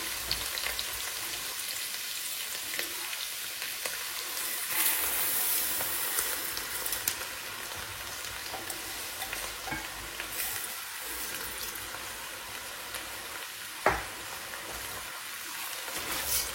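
Washed lentils frying with sautéed vegetables in a soup pot, a steady close sizzle with scraping stirs and a sharp clink near the end, no voices.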